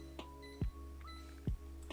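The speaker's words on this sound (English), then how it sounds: "Sometimes I set the timer even though it's just a minute or two because you lose track" A kitchen timer being set while onions cook for sriracha noodles, giving two short, faint electronic beeps about a second apart over a low, steady background hum.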